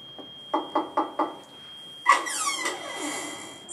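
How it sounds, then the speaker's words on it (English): Four quick, evenly spaced knocks on a house door sound in the Where's Bo Peep sheep game, followed by a brighter squeaky, chattering game sound. "So I'll go check at her house by knocking on the door."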